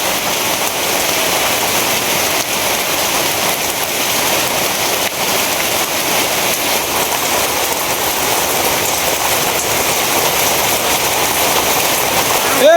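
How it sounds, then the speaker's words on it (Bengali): Heavy morning rain in a storm, a steady loud hiss of drops pounding surfaces without pause, with no speech in the clip. "বৃষ্টি শুরু হয়ে গেছে।"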